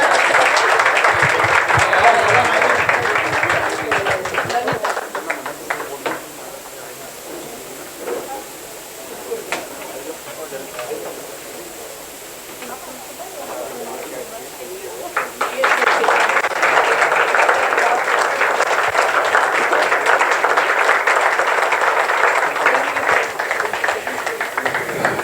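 An audience at a music gathering breaks into loud, sustained applause for about five seconds, then quiets under a steady hiss and scattered sounds before a second long burst of clapping swells back up and continues to the end.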